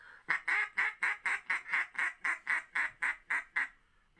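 Mallard ducks quack as they fly overhead on a Michigan duck hunt, a steady run of about fourteen evenly spaced, raspy calls at moderate distance.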